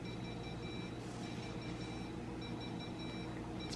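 Faint high beeps from an Instant Pot repeat in a short series over a quiet kitchen hum.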